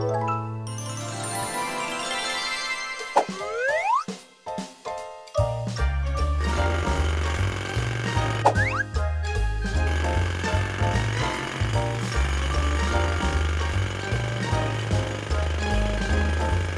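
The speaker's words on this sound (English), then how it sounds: "Morphle, morph into a jackhammer." A cartoon jackhammer breaking cement rattles in loud, rapid bursts after twinkling magical transformation chimes and whooshes, hammering on steadily to the end.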